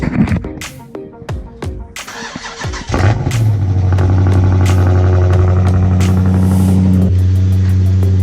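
A Dodge Charger Scat Pack with 50,000 miles cranks on a snowy day, then catches into a loud, deep idle that settles into a steady rumble, heard close up.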